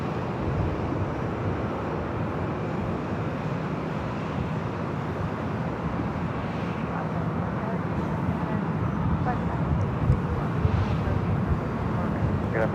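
Delta airliner taking off from runway 24 left at Los Angeles International Airport, a steady, continuous broadband jet roar that holds level throughout, with a voice talking over it.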